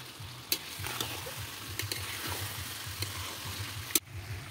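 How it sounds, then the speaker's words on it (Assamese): Cut potatoes with turmeric and salt fry in a pan and are stirred, giving a steady, soft sizzle broken by a few sharp clinks of the spoon against the pan, with no talking. "অকণমান ভাজি ল'লোঁ, এতিয়া কাটি থোৱা আলুখিনি ইয়াতে দি দিম।"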